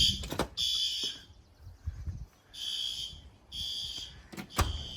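A building fire alarm system sounding during a test, harsh electronic horn blasts in repeated bursts with gaps between, fairly loud indoors, with some clunks and rustling in between.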